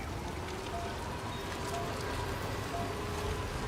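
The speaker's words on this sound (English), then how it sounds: "Do I wait until it's not raining?" Steady rain patters and hisses continuously in the video game Death Stranding 2, an even wash of drops with no voices.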